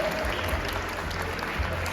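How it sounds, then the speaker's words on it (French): Steady applause from an audience, a dense wash of clapping that holds evenly throughout without breaks. "Applaudissez vraiment, je veux du bruit là"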